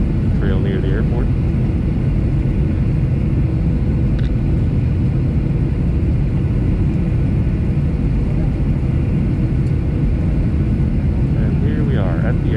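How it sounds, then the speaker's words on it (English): Steady loud rumble of a United Airlines jet landing at an airport, with broadband roar and low engine drone throughout; faint voices briefly in the cabin near the start and end. "And here we are at the airport. Touchdown."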